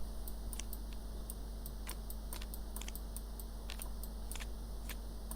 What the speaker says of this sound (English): I'm gonna shuffle, take 6 from here.